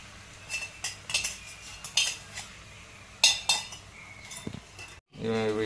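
Spatula clinking and scraping against a pan while egg rice is stirred, sharp metallic knocks at an uneven pace, then a short burst of voice at the end.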